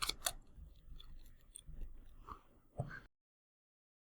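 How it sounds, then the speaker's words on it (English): Magic: The Gathering cards being shuffled during a Legacy match, a quick series of crisp riffling snaps and papery rustles up close for about three seconds, then silence. "Do a little shuffle."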